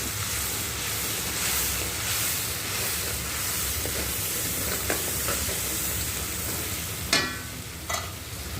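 Marinade gravy for chicken chaap fries in hot oil with a continuous close sizzle and hiss, punctuated by a few sharp scraping knocks as it is stirred, with no talk.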